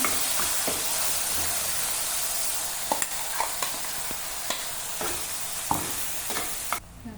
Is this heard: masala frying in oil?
yes